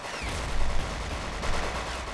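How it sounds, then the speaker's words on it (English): Infantry gunfire from the Men of War: Clash of Powers battle game, a dense continuous rattle of rifle and machine-gun shots with a couple of louder bursts, steady throughout. "So there's a bit of fierce infantry combat going on here."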